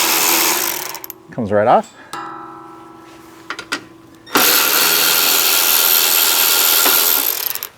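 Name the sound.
12mm wrench ratcheting off nuts on a Tacoma frame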